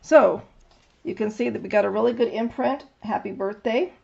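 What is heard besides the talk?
None of the usual background noises is heard.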